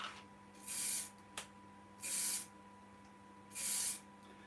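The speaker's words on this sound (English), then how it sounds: "the thing to remember when you're applying lacquer, don't apply too much" Lacquer finish being sprayed in three short, even hissing bursts about a second apart, close by in an otherwise quiet room with a faint steady hum.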